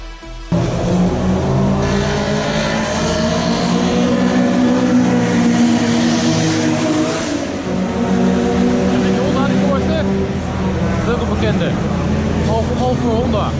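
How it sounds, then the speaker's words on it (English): Engines of Japanese cars rumble and rev at the Japfest Assen 2018 car event, a loud continuous drone of several motors nearby with rising and falling revs, and people talking underneath. "for most of the time you can enjoy the sound of all the engines"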